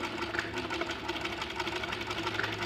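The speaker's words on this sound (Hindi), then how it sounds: "उसके बाद अपनी यहाँ पर सिलाई लगा सकते हैं" A sewing machine stitches fabric for a kurta, giving a steady, rapid mechanical whirr with an even pulse. It sounds fairly faint and close, and no one talks.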